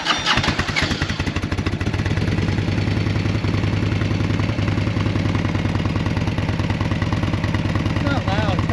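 An old Harley Davidson motorcycle engine fires up and settles into a loud, close, lumpy idle, its uneven low thumping pulses steady throughout while people talk over it.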